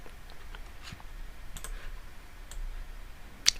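Computer mouse clicking during accounting software work, a few faint, sparse clicks spread over a quiet room background with a slightly sharper click near the end.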